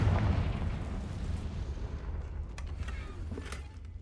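A Confringo fire-spell blast from the Hogwarts Legacy video game: a loud, rumbling boom that opens the clip and rolls off slowly, with a few faint crackling pops trailing behind.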